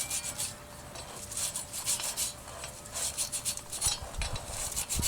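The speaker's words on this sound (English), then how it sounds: "I'm just going to try to brush this hub a little bit, get off any of that little surface rust" Wire brush scrubbing surface rust from the front wheel hub of a 2000-2006 Toyota Tundra pickup, a close, steady rasping scrape repeated in quick back-and-forth strokes for several seconds, with no talking.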